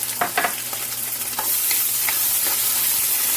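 Browned onions sizzle in a pan as fresh ginger-garlic paste goes in for beef biryani. A few stirring scrapes come first, then the frying swells into a loud, steady hiss.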